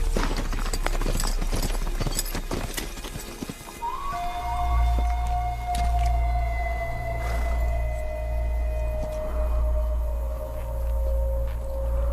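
Steady clip-clop of hooves at a walk, moderately close, with a low rumbling drone and a long sustained whine running beneath for most of the clip.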